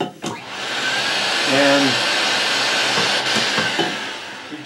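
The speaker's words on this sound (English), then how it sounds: "I happen to have a little old vacuum cleaner here that I use." A small old vacuum cleaner pulling hair off a comb gives a steady close whine and rushing hiss, starting after a brief knock and holding loud for several seconds, with a short voice at the start.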